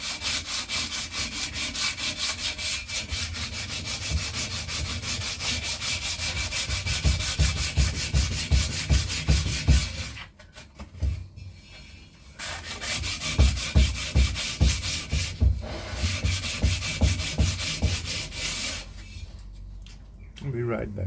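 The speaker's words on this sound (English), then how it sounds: "while sanding" Steady rhythmic scratching of sandpaper rubbed by hand across a wheel rim, with brief pauses between bursts of strokes, close and fairly loud.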